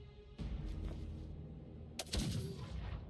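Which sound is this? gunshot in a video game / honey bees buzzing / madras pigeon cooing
gunshot in a video game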